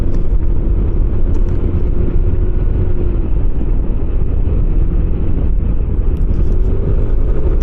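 Continuous loud motorcycle engine drone and wind rumble on a Northumberland country road, steady throughout.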